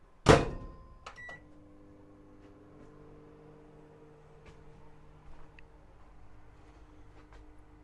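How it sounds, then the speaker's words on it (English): Microwave oven heating a cup inside, running off-grid on solar and lithium power beside the road, starting with a sharp clunk, then a faint steady hum with light ticks and rattles, quiet and alone. "Let's go microwave."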